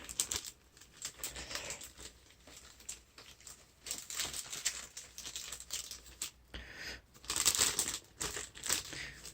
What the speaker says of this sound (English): I'm going to go ahead and put that back into its little envelope here